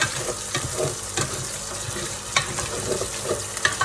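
Pork browns in oil for a mung bean dish, crackling and frying close by with intermittent stirring knocks and clatters over a constant sizzle, and no voices.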